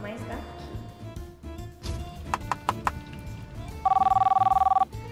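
An indoor telephone rings near the end, a bright trilling electronic bell lasting about a second, after a few short tones and some speech earlier.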